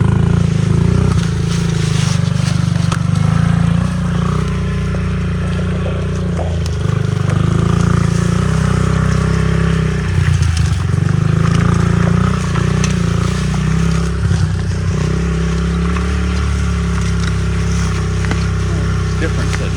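A dirt bike engine idles steadily outdoors, a continuous low rumble with slight rises and dips in revs, close and loud throughout, with a person talking over it at times.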